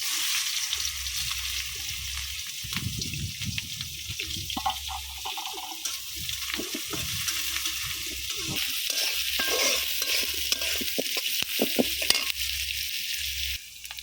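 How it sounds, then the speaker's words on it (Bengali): Thick-cut onions fry in plenty of oil for a duck egg curry, a close, steady sizzle with stirring scrapes and occasional clinks, no one speaking. "আমি পেঁয়াজটা একটু হালকা ভাজা দিয়ে নিচ্ছি"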